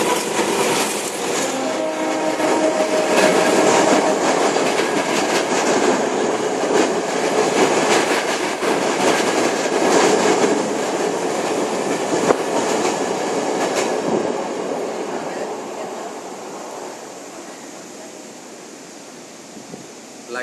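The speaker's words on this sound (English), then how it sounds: "And that's the train." A train rumbles past close by a beach in Sri Lanka, a loud continuous roar with rattling wheels that slowly fades away near the end.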